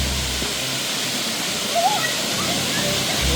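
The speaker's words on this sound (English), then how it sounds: "That's what we're coming up to. A waterfall." Roaring waterfall at Plitvice National Park, Croatia, a loud, continuous broadband rush of falling water heard up close, with a brief faint voice sound partway through.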